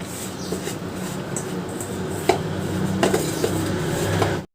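Sliced bitter gourd is mixed with spices, chickpea flour and rice flour in a bowl. Soft, steady rustling and scraping is broken by a few sharp clinks against the bowl.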